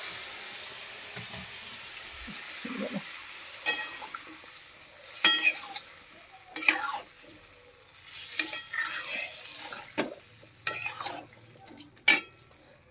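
A spoon stirring and mixing curry in a pan, irregular scrapes and metallic clinks against the pot over a faint background sizzle.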